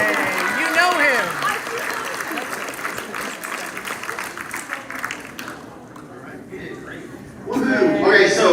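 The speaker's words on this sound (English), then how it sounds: "round of applause for all of our students that dress up for Halloween costume contest" Students' Halloween costume contest at a school band concert ends with a burst of applause and crowd noise mixed with cheering voices, fading briefly before a loud swell of clapping and cheers returns near the end.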